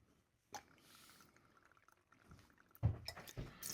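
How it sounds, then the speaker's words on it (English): Bourbon runs from an automatic two-ounce pour top into a glass for a cranberry bourbon sour, a close, soft liquid trickle with a few drips, then a louder splashing pour near the end. "I'm just going to pour it straight like this"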